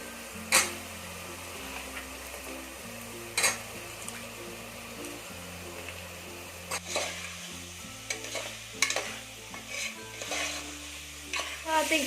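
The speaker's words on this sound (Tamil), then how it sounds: "இப்போ வந்து நம்ம மீல் மேக்கர் ஆட் பண்ணிக்கலாம்" Soya chunks frying in a pan with onion and ginger garlic paste for soya pulao, a soft continuous sizzle broken by scraping stirs and occasional knocks of the spoon on the pan.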